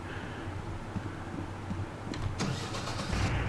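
A combine harvester engine in the Professional Farmer 2014 farming game cranks and starts, building into a steady low rumble that grows slightly louder, with a few short clicks near the start-up.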